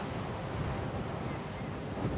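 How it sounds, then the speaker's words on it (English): Strong coastal wind on a Northern Ireland lighthouse route roars and buffets the microphone in a constant low rumble, loud and unbroken for the whole stretch. "It's so windy, and cycling against the wind is really, really tough."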